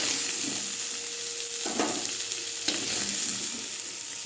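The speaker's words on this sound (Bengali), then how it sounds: "আমি চিংড়ি মাছটা আর বেশি ভাজবো না" Prawns frying in a pan, a steady close sizzle and crackle with a couple of louder bursts as they are stirred or turned, no voices.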